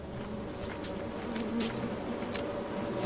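Wasps buzzing in the video game Lethal Company, a steady, close insect drone with a few brief rising swells as individual wasps pass near.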